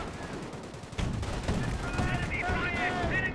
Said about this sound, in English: He's taking a bit of fire there.